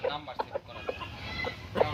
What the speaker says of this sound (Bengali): এই মুরগিগুলো হচ্ছে খুবই বড় জাতের মুরগি